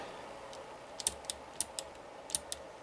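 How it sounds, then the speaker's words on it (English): Pushbutton on a breadboard 8-bit SAP-1 computer clock module clicked by hand in manual mode, about eight sharp, close, isolated clicks spaced irregularly over a low steady hum, no talking. "I'm clicking the button as you can see."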